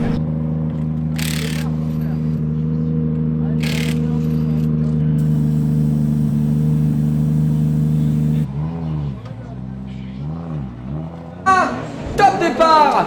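Drift cars at the French drift championship final hold a loud, steady engine drone that breaks into rising and falling revs, with a sharp high-pitched burst of revving and voices near the end.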